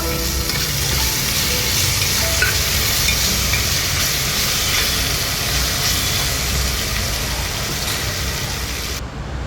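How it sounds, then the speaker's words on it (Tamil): Onions with ginger-garlic paste sautéing in a pan for mushroom biryani, a steady close, loud sizzle and fry hiss running through without pause, with no talk. "ஒரு தேக்கரண்டி இஞ்சி பூண்டு விழுதும் சேர்த்து ஒரு 2 நிமிஷம் வதக்கி விட்டுக்கோங்க"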